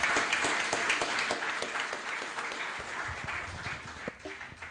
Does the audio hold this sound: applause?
yes